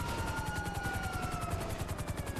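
Helicopter in GTA V on Xbox One, a steady close rotor chop with loud pulsing low beats and a faint whine gliding slightly downward, heard alone without talk.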